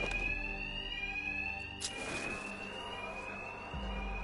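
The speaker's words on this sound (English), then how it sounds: "Two-Face's thugs won't hear me over the alarm." An alarm rings continuously in Batman Arkham Knight, a steady high electronic tone with a brief louder burst partway through and a low hum beneath.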